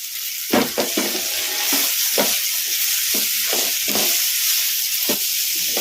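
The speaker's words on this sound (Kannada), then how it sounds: "ಈಗ ಇವನ್ನ ಹಾಕಿ ಫ್ರೈ ಮಾಡ್ಕೊಂಬಿಡೋಣ ಮೀಡಿಯಂ ಫ್ಲೇಮಲ್ಲೇ" Chopped cluster beans fry on a medium flame, giving a steady close sizzle broken by repeated scraping stirs at an uneven pace.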